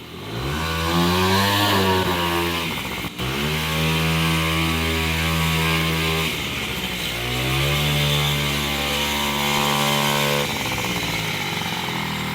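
A 50 cc moped engine runs loud and close, its buzzing pitch rising and falling through repeated revs with a brief dip partway through, steady and alone with no talk.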